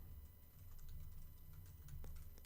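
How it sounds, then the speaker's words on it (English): Someone types an email address on a computer keyboard, producing a quiet, steady run of close key clicks with no voice. "I'm going to type in my email."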